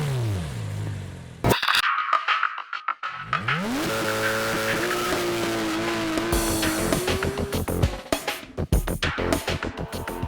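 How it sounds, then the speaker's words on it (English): Porsche 911 GT3 engine firing up with a loud metallic howl after a short silence, revving sharply, then settling into a hollow-sounding idle with busy mechanical clatter, close and loud. "The engine is programmed to start with a loud metallic howl before it settles into a hollow sounding idle"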